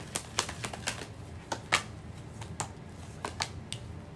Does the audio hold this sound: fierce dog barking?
no